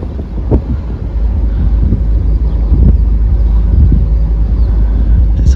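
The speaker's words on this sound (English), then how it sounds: "It's a windy day, but it's nice and bright." Wind blowing over a boat on the River Bure in the Norfolk Broads near Potter Heigham on a bright day, a steady low rumble against the microphone that holds throughout, with a faint engine-like hum underneath.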